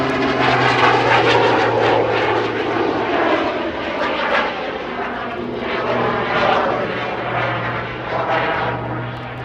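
A jet aircraft hovering at a slow airspeed at the IWM Duxford D-Day anniversary airshow, a loud, steady, roaring engine drone sustained throughout with faint fluctuations.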